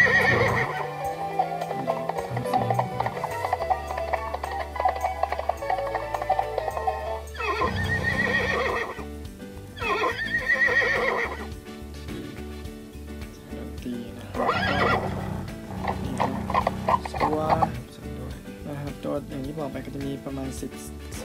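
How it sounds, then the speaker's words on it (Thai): A Toy Story Signature Collection Bullseye toy horse, with a fabric body and PVC mouth and eyes, plays electronic neighing and galloping clip-clop sounds in several separate bursts with short pauses between them. Someone talks alongside. "จะมีเสียงม้าร้องนะครับ"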